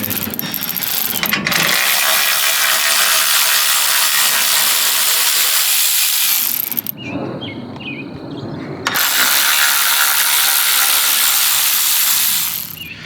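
Screws coming out of the active grille air shutter on a 2016 Ram 1500: loud, close ratcheting and grinding runs for about seven seconds, stops briefly, then resumes for several more.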